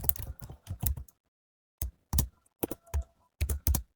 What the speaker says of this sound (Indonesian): Di sini kita ngetik lagi